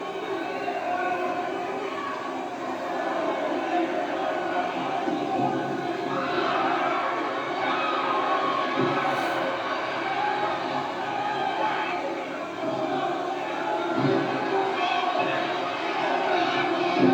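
Wrestling crowd at a WWA tag-team match cheering and hollering in a steady, moderately loud roar, swelling in a few brief surges, with no distinct talk standing out.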